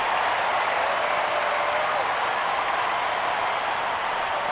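A large stadium crowd of over 39,000 roars and cheers steadily in MLB The Show 17 as the Mariners clinch the American League West, a dense wall of noise throughout.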